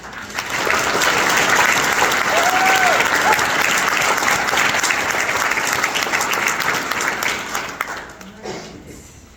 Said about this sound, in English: Please join me in a round of applause for Rebecca.